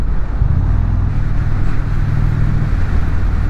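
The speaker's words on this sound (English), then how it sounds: "I'm going to see if I can get this bike up to 60" A motorcycle under throttle, its engine working toward about 60 mph for a highway-speed test, with a steady low drone and wind rush held at a constant loud level throughout.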